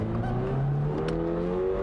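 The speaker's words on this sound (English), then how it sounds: "you can actually get a little bit more of the dynamic engine sound inside of the car" Engine of a 2022 Toyota GR86 Premium revving as it accelerates, heard from inside the car: a loud, rising tone climbing through the gears, close and continuous with no talking.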